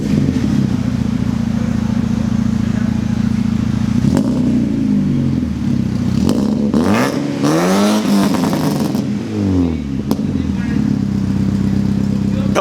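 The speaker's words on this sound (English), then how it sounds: "Oh, this exhaust sounds so good." A car fitted with a new, deeper aftermarket exhaust idles with a low steady rumble, then gets revved hard a few times with rising and falling sweeps, loud and close.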